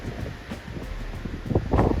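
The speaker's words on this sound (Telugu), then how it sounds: "సిడ్నీ పాయింట్ అసలు గాలి ఎంత గలీజ్ వస్తుందంటే ఘోరం వస్తుంది" Strong wind gusting at the Sydney Point viewpoint in the hills between Panchgani and Mahabaleshwar, a steady close rumble and rustle against the microphone that swells louder near the end.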